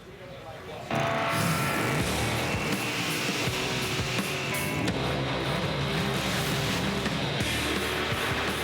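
Top Fuel dragsters at Gainesville Raceway during the NHRA Gatornationals erupt into a dense, thunderous roar that swells suddenly and stays loud and steady for several seconds, with an announcer's voice partly audible beneath.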